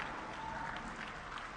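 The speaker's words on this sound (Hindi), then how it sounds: "कैसे तालियों की गड़गड़ाहट के साथ इस लॉन्च को पूरा किया गया" Thunderous applause from a crowd marking the Vikram-S rocket launch, a steady dense clapping wash held at moderate distance without a break.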